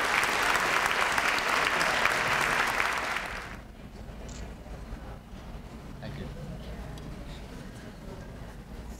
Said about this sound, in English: So if we could hear a round of applause for Bank of America.